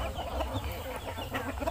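Chickens clucking in a backyard flock being fed, a busy mix of soft, close clucks and murmurs running continuously with no voices over them.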